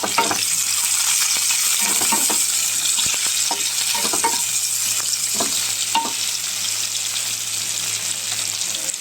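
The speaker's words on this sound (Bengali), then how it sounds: "এখানে মাছ ভাজা হয়ে গেছে, তেলে 5 ফোড়ন দিয়েছি, কিন্তু মাছ ভাজা হচ্ছে" Fish frying in oil seasoned with five-spice, a steady close sizzle with scattered crackles and occasional stirring clicks that runs throughout without any talk.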